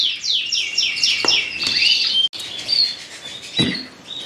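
Small birds chirp rapidly and continuously at close range, bright overlapping tweets with a few sharper calls mixed in.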